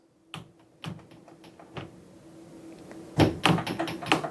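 A sticking house door being forced shut, giving a series of sharp knocks and thuds that build into heavier bangs and rattles toward the end, close by with no talk.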